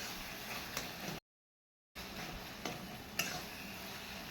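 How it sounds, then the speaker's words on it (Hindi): Spices such as turmeric and cumin powder stirred into a vegetable curry frying in a pan, giving a steady soft sizzle with scraping stirs and a few light ticks, broken by a brief silent gap. "और खूब अच्छे तरीके से इसको मिक्स कर दे रहे हैं"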